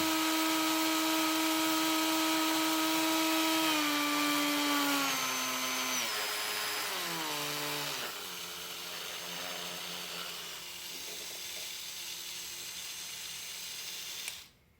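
A Proxxon Flexi Shaft 110/P rotary tool whines loudly and steadily, its pitch shifting across the run as the speed is changed, then it drops to a lower hum and cuts off at the end.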